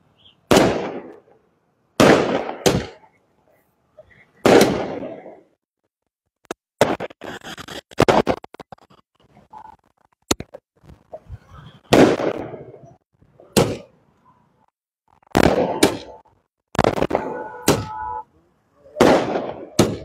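Firecrackers burst at a BJP victory celebration in Hisar, India: a string of sharp, loud, close bangs spaced irregularly across the clip, some in quick clusters, with faint crowd noise in the gaps.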